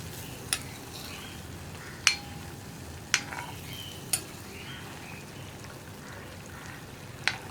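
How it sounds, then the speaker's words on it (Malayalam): Rice flour snack frying in oil with a soft continuous sizzle, punctuated by a few sharp clinks of a utensil against the pan at irregular intervals, no talking. "ഇനി ഈ സൈഡും കൂടി ഒന്ന് ഫ്രൈ ആയി വരട്ടെ."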